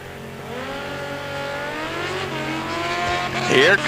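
At a drag strip, a motorcycle and a Chevrolet S10 race down the track, their engines droning and climbing in pitch as they accelerate, growing louder toward a sharp squeal near the end.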